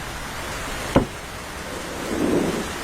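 Steady rain hisses in a cartoon storm around a bird's nest, broken by one sharp, brief crack of thunder and a soft swell of rumble toward the end, with no voices.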